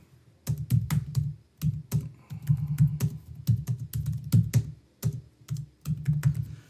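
Typing on a computer keyboard while entering text into a spreadsheet cell, with close, rapid clusters of key clicks separated by short pauses, no talking.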